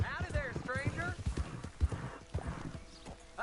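Horse hooves clip-clop steadily in the video game Red Dead Redemption 2 on PS4 Pro, with a brief whinny, heard under character dialogue.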